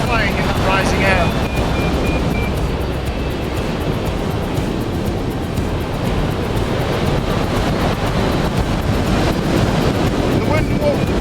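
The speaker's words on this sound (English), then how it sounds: "What's happening is the wind is going directly at the ridge." Strong wind streams steadily against a hill ridge during a hang gliding flight, a dense continuous roar and rush of air buffeting the microphone throughout, with no breaks.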